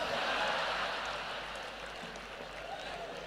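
Sustained applause from an audience at a Hindi comic poetry recital, a dense steady patter of many hands clapping that fades slightly toward the end.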